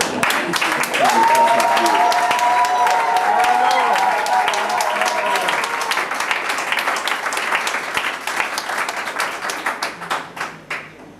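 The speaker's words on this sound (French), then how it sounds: "Alors on applaudit encore un peu plus fort." Wedding guests clap at a couple's ceremony, a full round of applause under a voice that speaks over the start, then thinning into scattered individual claps as it fades toward the end.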